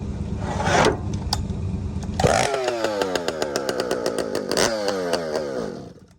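A small engine sputters on a cold start, catches after a couple of pulls, then revs up and down with a buzzing, chainsaw-like whine before cutting off.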